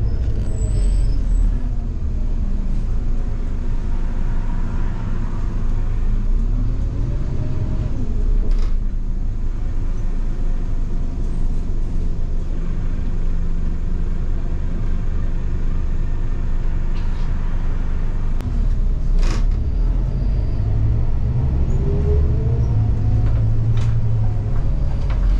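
Interior of a city bus in New Zealand on a ride, with a steady low engine rumble and road noise throughout, plus brief brake hisses and rattles along the way.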